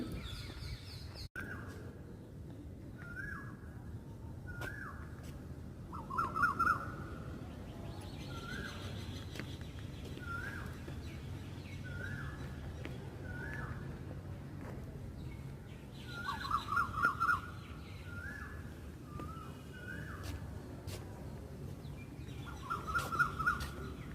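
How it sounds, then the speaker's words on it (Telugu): Birds, koels among them, call from trees along a walking path: short repeated chirping phrases come in clusters with brief pauses over steady low background noise, at moderate distance. "పక్షులన్నీ సందడి చేస్తున్నాయి."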